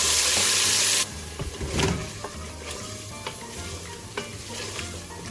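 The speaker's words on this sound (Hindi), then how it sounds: "जो बोनलेस बीफ हमने मैरिनेट किया था वो सारा इसमें डाल देंगे।" Marinated boneless beef hits hot oil with browned onions in a loud burst of sizzling, which settles into a steady frying hiss under close scraping and stirring.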